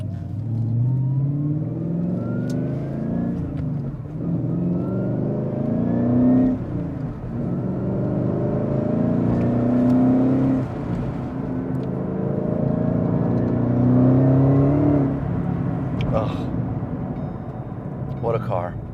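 A 2011 Shelby GT350 Mustang accelerates hard through several gears, its engine revving up and dropping at each shift, loud and close, with a voice talking over it.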